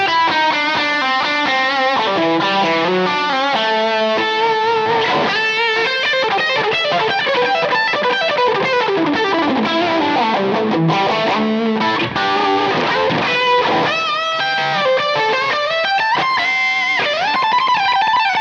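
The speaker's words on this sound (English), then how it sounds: "So now I've changed to the single cut for the distortion tones." A PRS McCarty 594 Singlecut electric guitar with high-gain distortion plays a fast melodic riff with bends and sustained notes, loud and continuous, with no voices.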